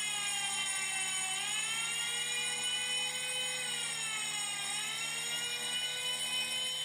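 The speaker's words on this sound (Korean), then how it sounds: "감지기 A와 B에 모두 신호가 들어오면 경종과 사이렌이 함께 울리고" A fire alarm bell and siren sound together on a fire-suppression training panel, giving a continuous, loud, shrill tone with gently wavering pitch that dips twice and carries on without speech.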